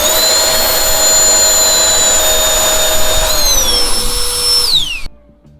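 A high-power Boluojun jet blower fan roars loudly in turbo mode, a steady close rushing blast with a shrill whine that steps down in pitch twice before cutting off abruptly near the end.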